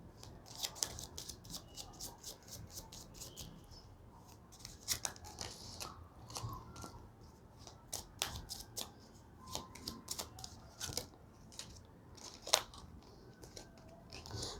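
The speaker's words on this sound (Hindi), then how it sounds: "सॉरी बहुत सारे कार्ड निकले इसलिए मैं वापस शफल कर रही हूँ" Tarot cards being reshuffled by hand during a reading, giving quick, faint, crisp clicking and riffling taps in an irregular, rapid rhythm over a soft background, with no talking.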